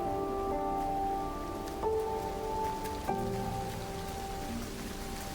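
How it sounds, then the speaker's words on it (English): Steady rain patters in the video game Jusant, a soft continuous hiss with tonal game music sustained over it and a few brief accents, no one talking. "It's raining."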